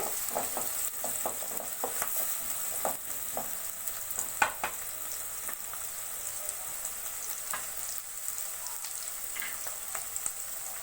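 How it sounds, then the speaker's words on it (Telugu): Onions fry in oil for an Andhra-style prawn fry, a soft steady sizzle close by punctuated by scattered crackles and light stirring clicks, with no talking. "ఆనియన్ ఆనియన్ మంచి బ్రౌన్ కలర్ వచ్చేంత వరకు వేయించుకున్నామండి"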